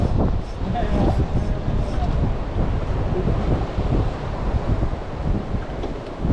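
Strong wind at the sea during squid fishing in rainy weather, a loud, steady roar of wind buffeting the microphone for the whole stretch, with surf-like wash underneath and no clear talk.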